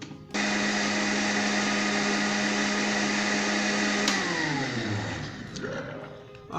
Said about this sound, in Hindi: जो हमने ब्रेड सोक करके मिल्क और चीनी और अंडों को ब्लेंडर में डाला है, इसे ब्लेंड करते हैं